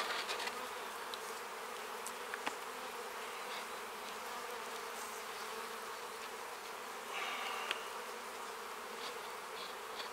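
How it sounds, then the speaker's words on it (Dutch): Buckfast honeybees buzzing around an opened Dadant hive, a steady close insect drone with occasional louder passes near the microphone and no talking. "want de bijen die kruipen steeds onder het folie vandaan"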